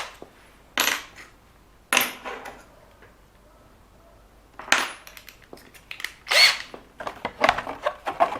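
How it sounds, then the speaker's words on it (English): Power drill boring through a plastic 1:10-scale RC car body, several loud separate bursts of whining and grinding with quiet gaps between them, growing more frequent toward the end. "What's happened is as the plastic twisted, it pulled the drill bit in that direction."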